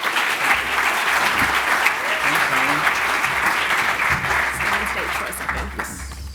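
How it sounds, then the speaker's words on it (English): Steady, full audience applause at an arts centre community event in Bankstown, dense continuous clapping from a crowd sustained at even loudness for several seconds. "a big round of applause to Bryan and Sarah"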